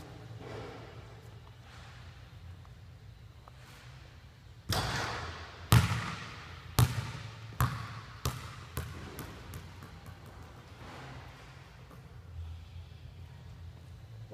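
Basketball shots swish through the net and bounce on a court, heard as a series of sharp thuds that come gradually closer together as the ball settles, with soft background noise before and after.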